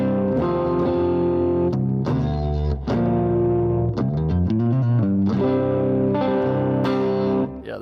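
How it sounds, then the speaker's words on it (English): Clean electric guitar fitted with Gem Root pickups on an inexpensive guitar, playing sustained chords and single-note runs, close and loud with a slightly chorused, reverberant shimmer and no talking. "And they clean up well, too, if you're curious."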